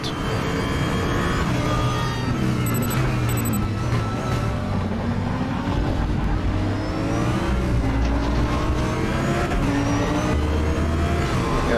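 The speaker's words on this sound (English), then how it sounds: "I do like the sounds of it, like the backfires out the back" A DTM race car from the 2021 season in RaceRoom roars continuously at full throttle, its engine note rising and falling through gear changes, with sharp backfire pops from the exhaust on lift-off, loud and close throughout.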